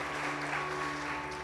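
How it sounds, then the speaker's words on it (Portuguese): A church congregation applauds during a Portuguese-language sermon, a steady, dense wash of clapping that fills the whole moment with a faint tonal hum underneath. "Pode aplaudir Jesus."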